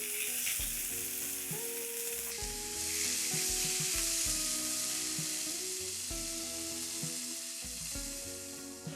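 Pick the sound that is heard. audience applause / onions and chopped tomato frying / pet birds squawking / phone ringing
onions and chopped tomato frying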